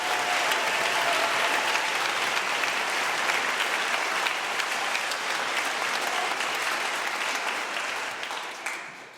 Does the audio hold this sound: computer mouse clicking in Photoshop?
no